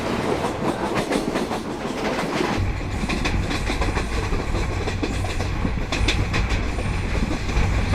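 A Konkan Railway train runs along the tracks with a loud, continuous rumble and rhythmic clatter of wheels, the low roar deepening partway through as it keeps moving.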